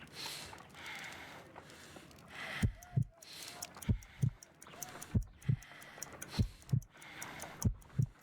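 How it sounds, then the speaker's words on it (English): Heartbeat from a pulse check in the Sherlock Holmes: Crimes and Punishments video game, a slow run of paired low thumps that starts partway through and repeats steadily under a faint background hum. "I need to concentrate and count the heartbeats."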